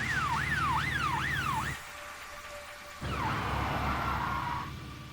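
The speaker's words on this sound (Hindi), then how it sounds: "वो तो पुलिस की गाड़ी है" A police car siren wails in quick rising and falling sweeps, cuts out briefly leaving a faint tone, then returns with a short sweep before trailing off, moderately loud over low traffic noise.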